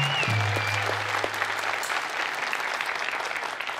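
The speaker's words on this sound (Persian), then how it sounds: "یه تشویق کنین خودتونو." Studio audience on an Iranian TV talk show bursts into dense, steady applause, loud and close, with a brief tonal sting at the start, clapping holding without talk for nearly four seconds.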